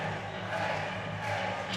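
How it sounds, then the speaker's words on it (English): A wrestling crowd at the True Grit Games 2023 event roars in a steady, dense wash of noise that swells slightly near the end, with no quiet gaps. "Oh, the crowd."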